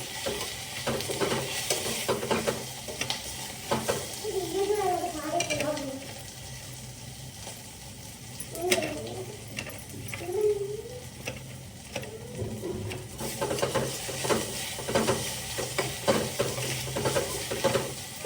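Onions fry and get stirred in a pan while egg pulao is being cooked, with a steady sizzle and scraping stirs close by, and occasional voices talking underneath.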